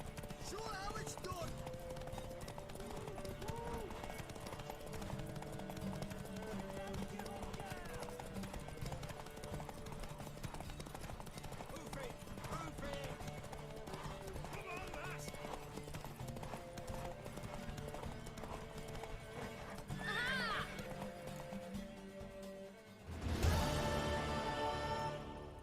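A horse clip-clops at a steady gallop and whinnies in The Witcher 3, the hoofbeats running under game music and character voices, with a louder burst near the end.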